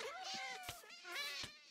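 Ocelot in a dungeon simulator video game giving short meow-like cries, with several rising and falling calls alone over a steady game background.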